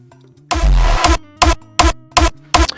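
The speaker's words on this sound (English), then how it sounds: "I would call this the punch sound." A punchy kick drum layer, one longer booming hit followed by four short, dry thumps at an even pace, loud and close.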